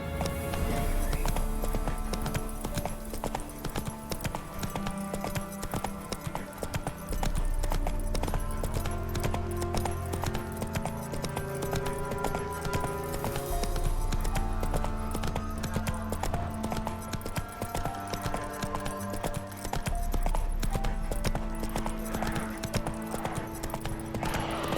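Horse galloping in The Witcher 3, a continuous rapid clip-clop of hooves running steadily and up close for a long stretch, over a layer of background game music.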